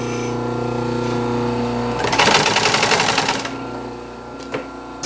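An industrial sewing machine stitches across a chair cushion during restoration of a 1930s Art Deco chair, a dense rapid chatter of needle strokes running for about a second and a half over a steady motor hum, then stopping.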